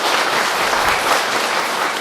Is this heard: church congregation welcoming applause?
yes